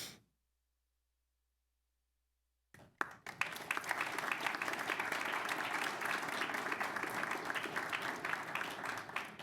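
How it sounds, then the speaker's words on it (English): After a brief silence, warm applause from a sizable audience at a board meeting breaks out and continues steadily, full and even, with no talking over it. "At this time, let's give it another big round of applause for Ty's celebration of life."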